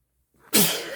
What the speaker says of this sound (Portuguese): Eu ia espirrar.